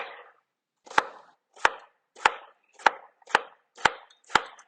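A knife slices a halved, seeded tomato on a cutting board, making seven crisp, evenly spaced strikes close up with short pauses between them and no talking.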